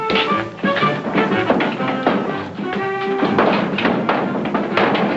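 Repeated thumps and taps against a stuck garage door sound as a series of dull knocks under a busy mix of music and background sound.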